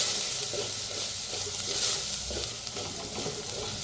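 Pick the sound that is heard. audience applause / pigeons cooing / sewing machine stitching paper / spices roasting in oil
spices roasting in oil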